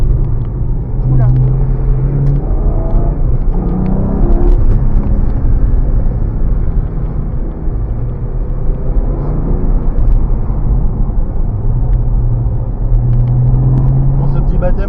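A GT4 sports car on a passenger ride drives at a steady engine drone with rising and falling pitch, loud and close from inside, while occupants talk over it.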